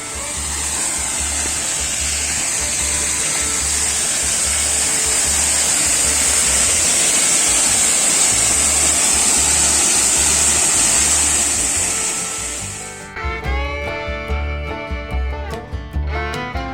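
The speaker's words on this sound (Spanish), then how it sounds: "Pero se escucha fuerte la caída de agua." Loud, steady roar of water falling at the Cachoeira dos Pombos in Igatu, Brazil, a broad constant rush that continues for about twelve seconds before cutting to quieter sounds with clattering at the end.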